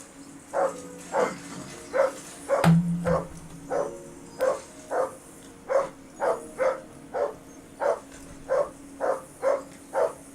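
A dog barks over and over in the medieval video game Kingdom Come: Deliverance, sharp, evenly spaced woofs close by, roughly two per second, with a brief low thud partway through.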